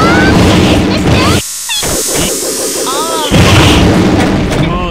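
An explosion in the Mugen fighting game erupts as a loud, dense burst of crashing noise, cuts out briefly, then returns with a second blast, with electronic effects whooshing through and no talk over it.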